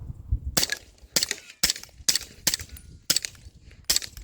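Seven sharp, loud pistol shots from a Beretta APX A1 Tactical firing Ammo Inc 165 grain rounds, spaced roughly half a second apart in a steady cadence, each with a brief ringing tail outdoors.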